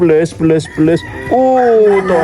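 Chickens cluck nearby in a few short bursts, followed by one longer drawn-out call.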